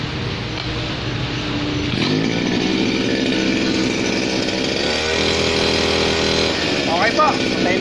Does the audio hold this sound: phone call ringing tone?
no